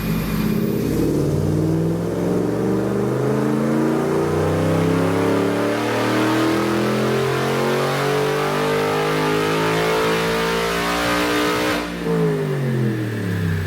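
Factory 5 Roadster with a Gen 3 Coyote V8 roaring through a full-throttle dyno pull, one loud continuous rising engine note sweeping up steadily, then dropping off sharply as the throttle closes near the end.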